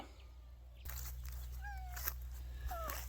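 A cat meows twice, fairly close, with short rising-falling cries over a low steady background hum.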